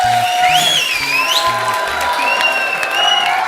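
The studio audience of The Kapil Sharma Show bursts into loud, sustained applause with cheering, while music and bright melodic tones play over the clapping throughout.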